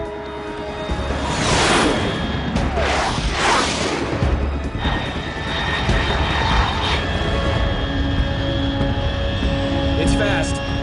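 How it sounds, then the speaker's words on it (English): A fast aircraft roars overhead in Metal Gear Solid 3: Snake Eater, a loud sustained jet rush with sweeping whooshes that swell and fade under a steady bed of game sound, with a voice speaking over it. "Unidentified aircraft detected."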